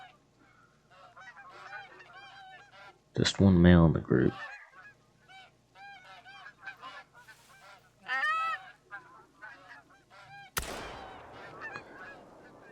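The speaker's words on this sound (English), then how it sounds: "got some Canadian geese right here." Canada geese honking in the hunting game theHunter: Call of the Wild, loud close calls in repeated bursts, with a brief sharp gunshot-like crack near the end and someone speaking briefly.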